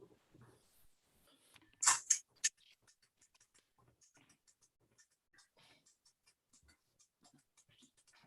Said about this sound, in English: Let's just do a little bit of typing.